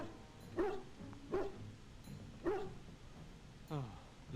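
A hound wanders a castle in Dragon Age: Origins, giving several short yips and barks at a steady pace over a constant game background, with a final whine-like call.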